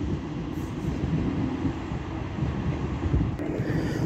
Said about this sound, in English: And now departing is a Metrolink tram 3147 back to Manchester Victoria.